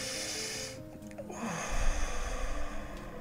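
A slow, deep breath taken in during a guided relaxation session, a soft airy inhale and exhale heard up close against a steady background hum, with no talking.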